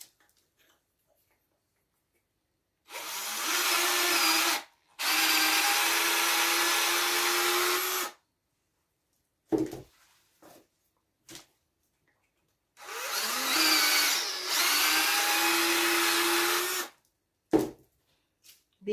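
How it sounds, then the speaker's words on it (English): A power drill bores out holes in old garden tool handles, in two long whirring bursts of several seconds each, separated by silence and short clicks and knocks of handling. "I'm going to drill out the other two."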